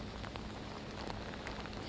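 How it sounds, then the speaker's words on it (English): Heavy rain pours down in New Orleans during Hurricane Francine, a steady dense hiss of rain on surfaces with no pauses, fairly faint and even throughout. "It's obviously the rain is coming down hard at this point."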